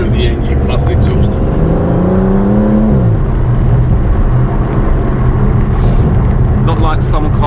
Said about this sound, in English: it's all just a mixture of the engine plus the exhaust.